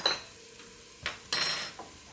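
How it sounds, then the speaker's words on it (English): Cloves and spices being stirred in hot oil in a pan for vegan ramen, giving a few soft scraping stirs and a gentle sizzle in bursts, close and fairly quiet, with no talking. "we're just going to give that a bit of a stir around"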